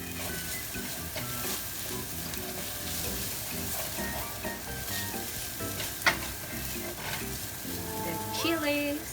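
Ginger and cumin seeds sizzle in oil in a frying pan while making samosas, a steady close crackle with scattered pops and the occasional scrape of a stirring spoon.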